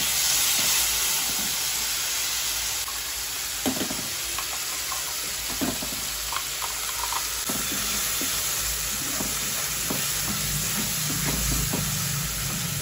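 Bay leaves and chillies fry in hot oil in a pan, giving a steady, close hiss and sizzle with occasional crackles and stirring clinks throughout.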